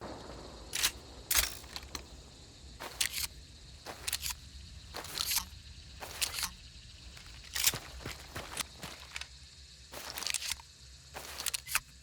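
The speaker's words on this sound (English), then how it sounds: "It sounds like someone jiggling keys or shaking a pocket full of spare change, which is such a shame because the Liberator is easily my favorite firearm in Days Gone" Liberator shotgun reload in the game Days Gone, a string of bright metallic jangles like shaken keys or loose coins, repeated in short bursts close up without speech.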